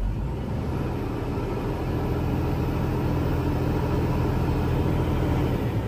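A 2007 Kenworth W900 mixer truck's engine running at a steady idle, a constant deep diesel rumble heard up close, unchanging throughout with no voices.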